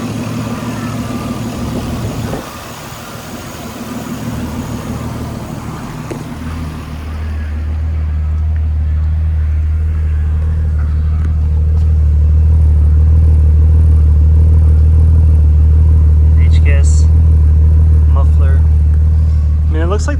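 A 1998 Nissan Skyline R34 GTT engine runs close by, starting as a quieter mechanical hum and swelling into a loud, heavy low rumble that holds steady, with a voice speaking at times.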